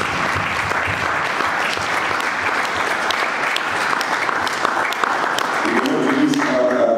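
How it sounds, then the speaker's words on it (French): Church congregation applauding to acclaim the Lord during a sermon, steady loud clapping from many hands that holds for several seconds, with faint voices mixed in near the end. "On acclame le Seigneur."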